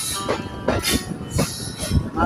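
Passenger train wheels clatter and squeal on the rails as the train nears Belgachi station on the Bhatiapara to Rajbari line in Bangladesh. Loud, regular bursts of clacking repeat over a steady rolling rumble.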